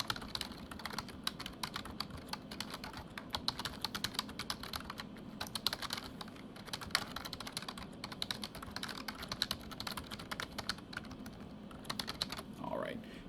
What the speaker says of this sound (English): So I'll type that out quickly and then read it back to you guys.